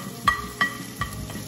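Pepper goes into a pot of Nigerian concoction rice as it fries, giving a steady sizzle with three soft stirring knocks close by, and nobody talks.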